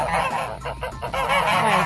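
Goose honking loudly and continuously at close range, with repeated harsh nasal calls overlapping through the whole stretch.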